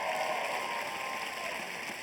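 A stand-up comedy audience gives a brief, soft round of clapping, distant and even, fading slightly as it goes, with no talk on top.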